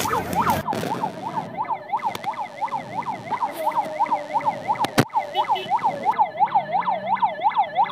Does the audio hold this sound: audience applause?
no